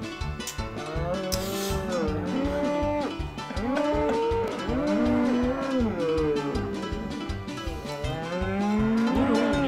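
Cows in the El Chavo Wii video game moo again and again, overlapping bellows riding on a steady beat of game music throughout.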